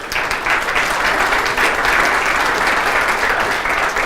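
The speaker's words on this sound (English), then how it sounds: "So please, one big applause for all the guys" Sustained enthusiastic applause from a conference crowd at a Drupal Camp, thanking the event organization team, with steady loud clapping filling the whole stretch.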